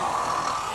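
A child imitates a bear's snore: one sustained, breathy, rasping drone held steady and fairly loud for under a second, with no other voices.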